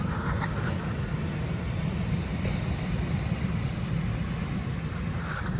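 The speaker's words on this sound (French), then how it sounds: "je crois que j'ai assez admiré les vagues comme ça" Ocean waves rolling onto the shore in Senegal, a continuous low surf rumble with gusts of wind buffeting the microphone, steady and fairly close, with no talking.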